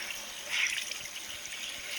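Tap water runs into a sink during tie-dye work with ice and pigment, a steady hissing stream that swells briefly as the flow changes, fairly quiet with no voices.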